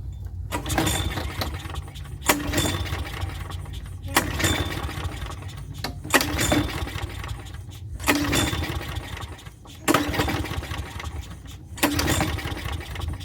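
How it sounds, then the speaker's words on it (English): Repeated pull-starting of a trash-picked lawn mower engine with fuel squirted into the carburetor: six rhythmic cranking bursts about two seconds apart, each a rough sputter that does not catch into a steady run. "Squirt a little fuel right down her throat. See if she'll start on the third or fourth pull."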